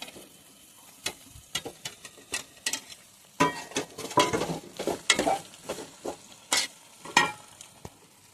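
Okra and tomato pieces cooking in a pan are stirred in short, irregular scrapes and knocks of a spoon over a faint low sizzle, the strokes coming in busier clusters through the middle.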